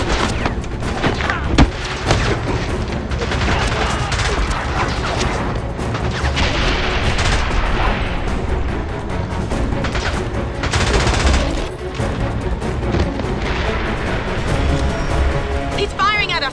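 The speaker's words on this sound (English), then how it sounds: "He's firing at us! Pomerov's firing at us!" Heavy gunfire in the James Bond 007: Blood Stone game, with bursts of shots and crashing impacts going on continuously under a dense, loud mix of other battle noise.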